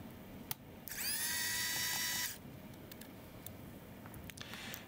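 Small screws being removed from the screen of a Dell XPS 13 9315 laptop, a brief high whirring burst from a small electric screwdriver lasting about a second, with faint clicks before and after.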